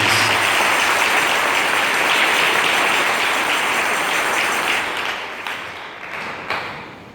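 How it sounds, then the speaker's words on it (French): A church congregation cheers and applauds during a French-language sermon, a dense sustained wash of clapping and shouts that holds strong, then thins and fades toward the end with a few scattered final claps. "Acclamons un peu pour le Seigneur Jésus-Christ"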